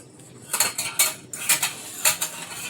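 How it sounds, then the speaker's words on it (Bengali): A metal lid clatters on and off a cooking pot several times in quick succession, bright clanks and scrapes in an irregular rhythm, close by with no talking. "একবার ঢাকা খুলে নিচ্ছে, রান্না করে আবার ঢাকা দিচ্ছে।"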